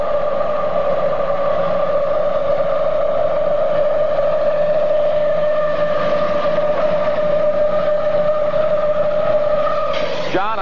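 A modified tractor's engine roars under heavy boost during a tractor pull, a loud sustained droning howl that holds steady throughout.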